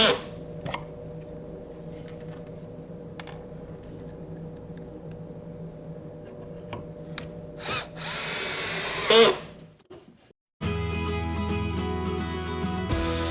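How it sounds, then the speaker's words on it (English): A cordless drill drives Kreg pocket-hole screws through wooden table aprons in several short whirring bursts over a low background hum. A final louder burst ends abruptly, followed by a steady tonal sound. "attach through the aprons using pocket hole screws"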